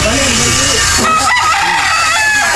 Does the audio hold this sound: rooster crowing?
yes